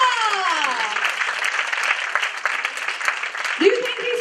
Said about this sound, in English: A big round of applause for Parth Shah.